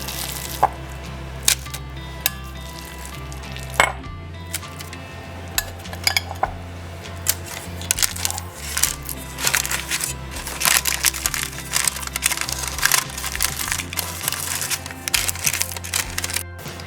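Oat crust for a dog cheesecake being pressed into a pan, producing a series of close metallic scrapes, taps and clinks of utensil on pan, irregular and fairly loud, with no speech.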